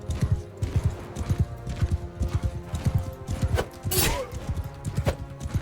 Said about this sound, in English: Come on, horse. Pick up speed.